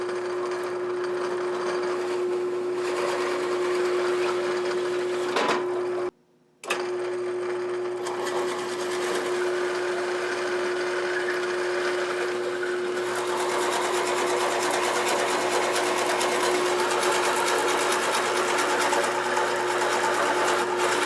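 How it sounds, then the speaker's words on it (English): A continuous buzzing machine drone runs through holes being drilled in a wooden block, steady and fairly loud with one brief drop-out partway through, then growing slightly harsher toward the end. "So we got our holes drilled."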